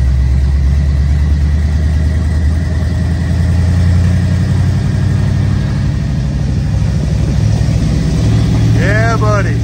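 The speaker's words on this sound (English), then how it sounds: "Hear that squeal? That's power steering belt." A 1986 Ford F150 idles with a steady low engine rumble. A high whine from a bad power steering belt runs through it, and a voice speaks near the end.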